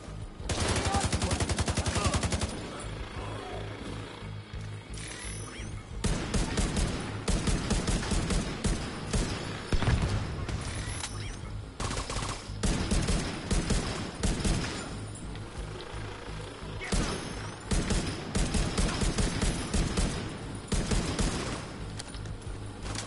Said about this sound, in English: Someone's shooting at me, man.